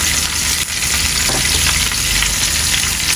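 Onions fry loudly in a hot pan while bottle gourd leaves are being cooked, giving a dense, unbroken sizzle with faint stirring movement throughout.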